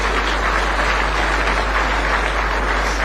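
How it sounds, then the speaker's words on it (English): Audience at a Kenyan prayer breakfast applauding a keynote speaker, a dense, steady wash of many hands clapping throughout, loud and sustained with no pauses. "Clap for him."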